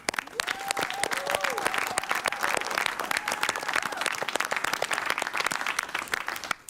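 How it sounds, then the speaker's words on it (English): A crowd at a fundraising presentation applauds a rural family about to own their land, steady sustained clapping that stays fairly even, with a few voices murmuring underneath. "I think that's worth a round of applause"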